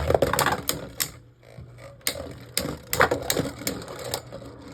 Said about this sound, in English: let's do one more match real quick between the two because it's a left spin battle, left spin versus left spin